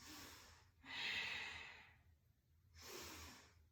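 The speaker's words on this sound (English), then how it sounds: "Deep ujjayi breaths." Slow, deep ujjayi breaths during a vinyasa yoga flow: two long, close, airy breaths with a throaty rasp, separated by a quiet pause, faint and unhurried.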